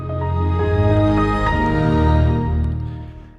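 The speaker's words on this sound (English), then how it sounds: "we'll play the logon sound." The Windows Longhorn Build 3706 logon sound plays once, a warm swelling synthesized chime with layered sustained tones that rises and then fades out over a few seconds.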